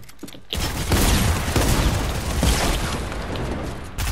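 Gunfire in the video game Fortnite: a dense, sustained stretch of rapid shots and booms that starts abruptly and rattles on for about three seconds before cutting off.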